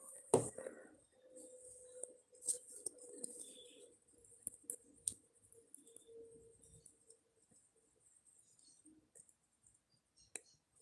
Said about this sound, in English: I hear the birds outside.